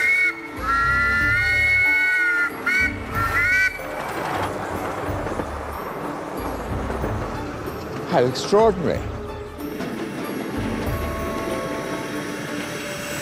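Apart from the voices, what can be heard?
model railway train running, whistle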